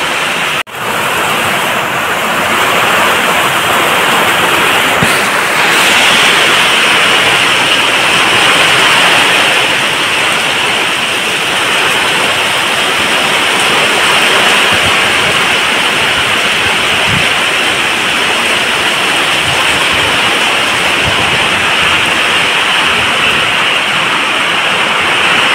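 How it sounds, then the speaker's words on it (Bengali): Heavy rain pours down without a break, a loud, dense hiss of water that stays steady for the whole stretch, close by and with no voices. "দেখো প্রচণ্ড পরিমাণে বৃষ্টি হচ্ছে।"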